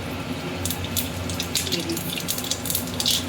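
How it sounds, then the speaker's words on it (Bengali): White cumin seeds, with dry red chillies and bay leaves, sizzle in hot oil for a Bengali papaya and lentil fritter dish, a steady close crackling hiss with scattered sharp pops, a voice speaking faintly underneath. "তেলে দিয়ে দিচ্ছি সাদা জিরে"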